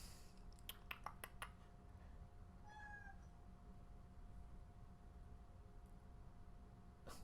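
A house cat gives a short, faint meow once, following a few quiet clicks and clinks, against a soft steady background hum.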